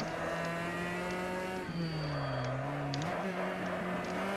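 Race car in the Automobilista sim on the Norisring street circuit, engine tone dropping and stepping down through gears under hard braking into a right-hand 90-degree corner, steady and close with no talk.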